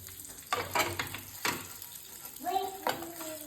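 Bangda (mackerel) fish fries Malvani style in a pan, with a steady close sizzle broken by a few louder bursts of stirring and scraping.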